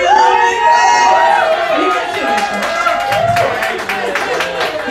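Crowd noise and cheering fill a pub hosting a church baptism, a steady roar of voices with scattered claps and whoops throughout.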